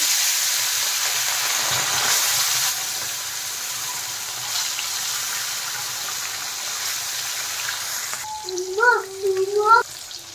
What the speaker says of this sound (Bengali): তেল গরম হয়ে গেছে, এখন মাছগুলো আমি দিয়ে দিচ্ছি তেলে।